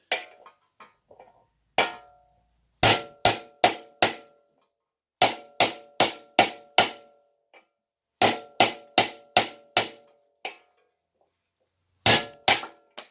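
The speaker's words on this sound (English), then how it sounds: "Take your socket and hammer and drive her out" Sharp metallic hammer blows on a socket ring out close and loud, driving out a ball joint on a 2005 Honda Accord, landing in quick bursts of three to five strikes separated by short pauses.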